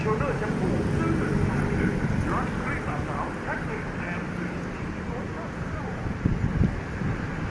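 Outdoor wind gusting against a microphone near a cable-stayed railway bridge: a steady, loud low rumble and buffeting throughout, with a faint distant hum beneath and occasional louder thumps near the end.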